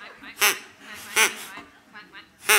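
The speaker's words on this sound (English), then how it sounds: "Exterior, duck pond, day." Ducks and geese honking and quacking at a daytime duck pond in an audio drama, three loud close calls spaced about a second apart with softer calls between.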